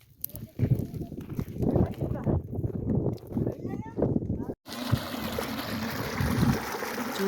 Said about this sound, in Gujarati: જુઓ આ કેવું સરસ પાણી આવ્યું જાય છે